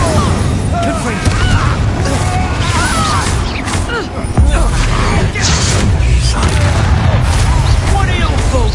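Spell blasts crash and boom in the wizarding game Hogwarts Legacy, loud chaotic bursts of game combat effects layered with a voice, one deep thump midway.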